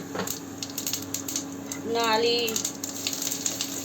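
Cumin seeds sizzle in hot mustard oil in a home kitchen, a close crackling fry holding steady for a few seconds with a brief bubbling swell in the middle.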